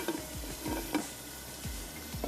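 Beef for tikka biryani fries in a pot, a steady low sizzle with a few soft scrapes of stirring, fairly quiet and close.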